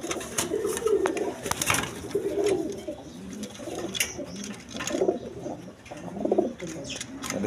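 A pair of Recher pigeons coo in repeated low, throaty phrases close by, with soft chirps and background rustling between the calls.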